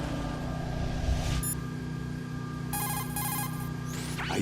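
A Metal Gear Solid 2 codec call rings in with a pair of bright, electronic beeping bursts, fairly clear over a steady low game hum.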